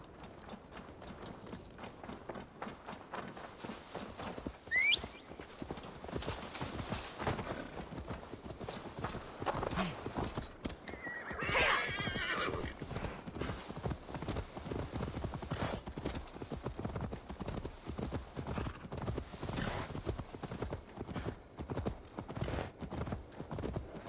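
Horse hooves clop in a steady galloping rhythm throughout in Assassin's Creed Valhalla, moderately close and even, with no talk over them.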